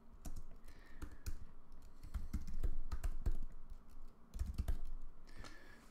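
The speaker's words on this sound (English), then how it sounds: "I'm typing the first few letters of the directory that I want to go into" Typing on a computer keyboard at a command-line terminal, a close, quiet run of clicky keystrokes in uneven bursts with short pauses between them, and no talking.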